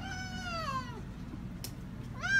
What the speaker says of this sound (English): Got the cat down here.